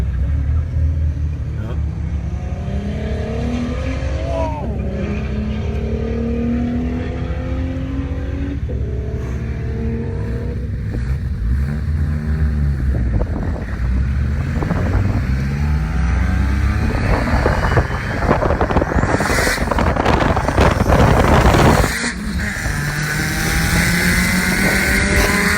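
A Porsche race car's engine drones and revs, rising and falling through the gears, then swells to a loud roar as it passes close, with voices talking over the rumble.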